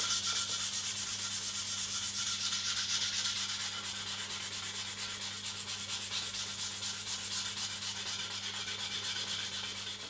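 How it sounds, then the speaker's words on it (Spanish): Steady hand sanding of a wooden handle on a giant deba knife with folded 400-grit sandpaper, a continuous rhythmic rasping rub heard close and alone, with no voices. "voy a empezar con un folio de lija del 400, un pequeño pliegue y a frotar"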